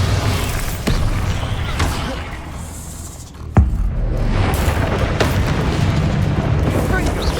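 A Bombarda spell explodes in Hogwarts Legacy, with several booming bursts, the sharpest a hard crack near the middle, over a continuous dense wash of combat noise and effects.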